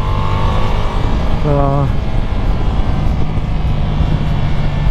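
Ducati Multistrada V4S 2021 170HP motorcycle running loud and steady on a race track with traction control set low during tire warm-up, engine drone and wind roar throughout, a brief rising rev sweep near the start, with a voice speaking briefly.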